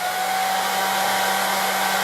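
A hair dryer blows a continuous, even stream of air with a steady whine and hiss, used to keep a ball floating in the airflow.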